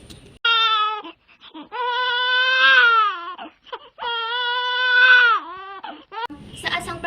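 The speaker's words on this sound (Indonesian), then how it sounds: "dia samar mendengar suara tangisan bayi" A baby wails in repeated drawn-out cries, close and loud, with short breaths and pauses between them. The crying comes as a sound effect inside a narrated Indonesian legend.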